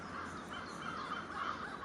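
A crow caws repeatedly in Halifax's city streets, harsh calls carrying over a constant urban background hum.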